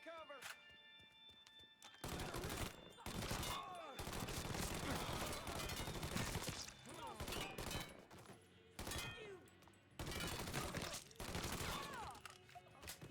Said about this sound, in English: I'll shoot you in the head